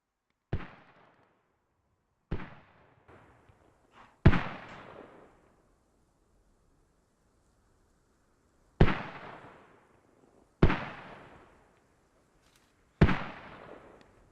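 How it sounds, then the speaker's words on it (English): Mortar shells explode in a Squad-style military shooter, six sharp booming blasts spaced irregularly a few seconds apart, each with a decaying rumble, loud and unaccompanied by talk. "There's some friendly mortar TKs going by the looks of it."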